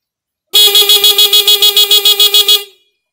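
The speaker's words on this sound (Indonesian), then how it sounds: "kalau klakson motor Anda yang standar mau dibikin seperti itu suaranya, tinggal kasih batu baterai aja" A loud, bright motorcycle horn modified with a battery sounds in a rapid stuttering burst of about fifteen quick pulses lasting two seconds, then cuts off.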